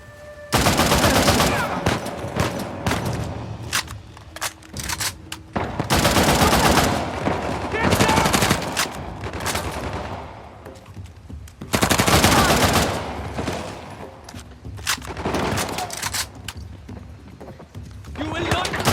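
Rapid bursts of automatic gunfire and single shots ring out in Uncharted The Lost Legacy, loud and close in repeated volleys with short pauses between them, while voices shout over the shooting.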